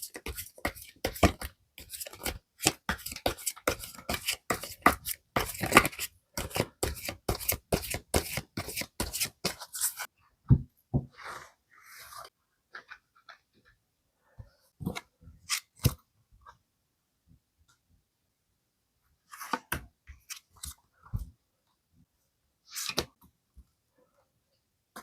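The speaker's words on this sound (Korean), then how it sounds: "카드로 실시간으로 뽑아서 보도록 하겠습니다." Tarot cards are shuffled by hand in a dense run of quick riffling snaps for about ten seconds, then single cards are drawn and laid down in sparse, close taps and slides.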